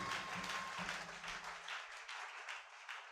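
A church congregation claps and cheers in a large room, steady and fairly faint, with a rumble of voices and low sound that drops away halfway through, leaving thin, sustained applause.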